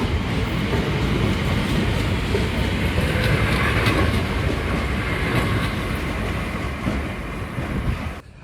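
A British Rail Class 465 electric train runs at speed, a loud, continuous rumble of wheels on track with faint rhythmic clatter, heard from on board before easing off at the end.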